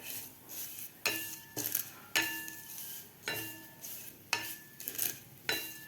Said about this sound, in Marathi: आता आपल्याला व्यवस्थित हे शेवाया तुपामध्ये फ्राय करून घ्यायच्या आहेत